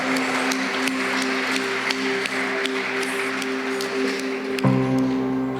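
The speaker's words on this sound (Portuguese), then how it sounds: "Você pode aplaudir a Ele, o Rei da Glória, Jesus" A church congregation claps along during worship, with scattered, crisp handclaps ringing out over sustained keyboard chords before the music shifts near the end.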